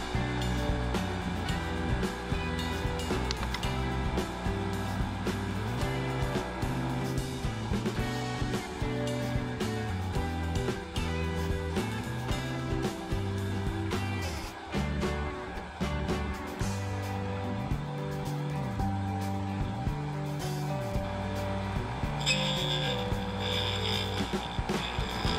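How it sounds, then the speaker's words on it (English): A Sioux 680 valve grinder grinds the tip of an intake valve, giving a loud, close, continuous motor hum with shifting tonal bands as the tip is flattened in small increments. "Now I'll remove just enough material to flatten the tip in very small increments."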